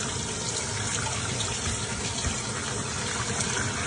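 Tap water gushes steadily over dry beans for 15-bean soup as they are rinsed in a sink, a close, continuous broadband rush with no talking.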